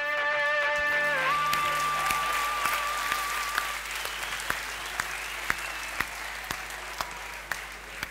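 Applause opens with a lively burst that soon thins into a handful of sharp, separate claps spaced about half a second apart, while a faint tone fades out early.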